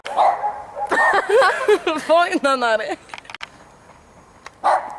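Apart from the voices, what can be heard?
dog barking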